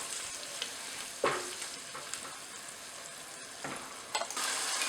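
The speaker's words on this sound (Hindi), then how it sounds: "अब हम इसमें डाल रहे हैं ये धनिया पेस्ट जो हमने बनाई थी वो, और इसको हमें अच्छी तरह से अराउंड 1 से 2 सेकंड तक इस तरह से थोड़ा सा पकाना" Coriander paste frying in a pan for undhiyu, a steady close hiss and sizzle with a few stirring scrapes, no talking.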